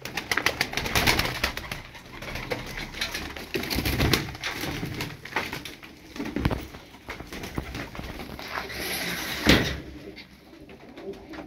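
Pigeons in a loft cooing and shuffling, with soft wing flaps and scattered thumps from close by, continuous low bird murmur throughout and one sharper burst near the end.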